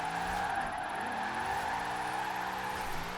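A Formula Drift Corvette in Forza Horizon 4 holds a loud, steady engine drone under a continuous tire-skid hiss, heard close up without speech.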